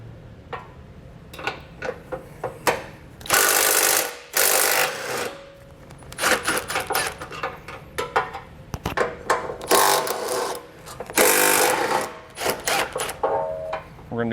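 Intermittent ratcheting clicks and bursts of a 14mm socket backing out bolts and a nut on a 2020 Subaru Outback Wagon's rear bumper beam, close and uneven, in irregular spurts with pauses between.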